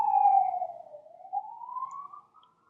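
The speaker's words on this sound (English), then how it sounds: "I'm waiting for that siren to pass" A passing emergency siren wails in a single long falling-then-rising sweep, loud at first and fading away, heard alone with no talk.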